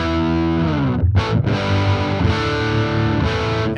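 An electric guitar plays through a Fender effects pedal with a thick, distorted half-stack tone, sustained notes and chords ringing loudly with a short break midway.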